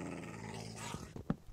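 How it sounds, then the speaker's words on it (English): A dog in the Minecraft video game gives a low, rumbling growl that ends in a few short, sharper yips, heard briefly and close with no talking. "what are you growling at?"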